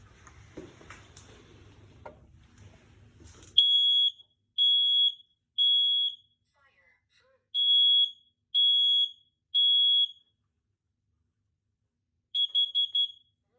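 A smoke alarm gives a series of loud, shrill electronic beeps in short evenly spaced bursts, followed by a quicker cluster of chirps.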